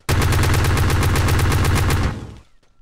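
Rapid automatic gunfire from a set of aircraft guns all shooting at once in Kerbal Space Program, a loud dense rattle of evenly spaced bursts lasting about two seconds before cutting off abruptly.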